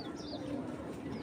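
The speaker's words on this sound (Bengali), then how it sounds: "এটা সিলভার আইসের একটা কবুতর।" A racer pigeon with silver eyes coos softly and close by, a single short, low, throaty call against quiet background.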